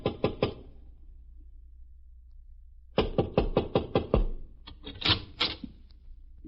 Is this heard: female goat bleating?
no